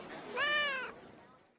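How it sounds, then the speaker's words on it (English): A single drawn-out cat meow sounds in an office, harmonic and clear, rising then fading, with faint background murmur around it. "You brought your cat into the office?"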